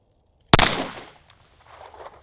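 A single sharp, loud shot from a Springfield Hellcat RDP pistol without its compensator, loaded with Wilson Combat 115 grain +P ammunition, ringing out outdoors with a brief decaying tail and a faint later click and rustle.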